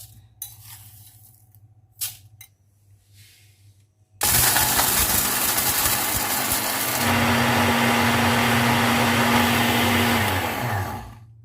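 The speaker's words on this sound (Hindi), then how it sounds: "इस पूरे मसाले को हम ग्राइंड कर लेते हैं।" Whole garam masala spices, including peeled nutmeg, are handled with a few light clinks, then an electric grinder starts with a loud, steady whine that runs for about seven seconds before winding down.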